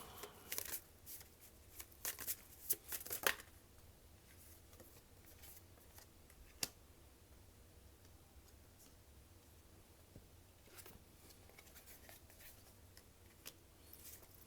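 Tarot cards shuffled by hand in a quiet room, with a dense burst of riffling and snapping early on, then sparse soft rustles and occasional single card flicks.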